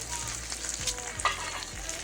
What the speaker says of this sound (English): Is bacon looking good? Finally sizzling.